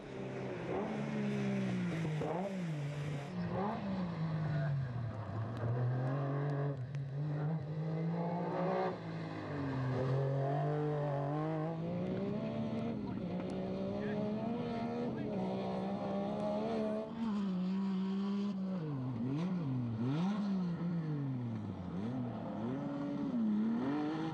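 A Metro 6R4 rally car with a 2.5-litre engine races through a UK rally stage, its raspy engine note loud and continuous, rising and falling as it revs and shifts throughout.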